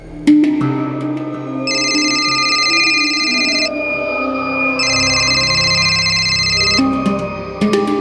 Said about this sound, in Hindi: नैना फोन क्यों नहीं उठाती है यार